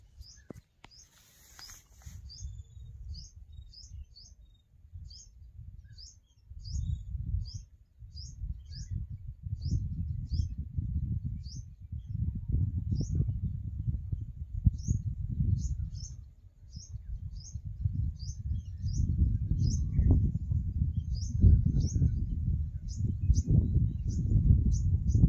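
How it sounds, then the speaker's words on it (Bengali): Birds call from the trees around a hilltop temple, short high chirps repeating steadily throughout, with a continuous low rumble of wind or handling noise underneath and no talking. "আর দ্বিতীয় কথা হচ্ছে সবচেয়ে বড় পাখির ডাক"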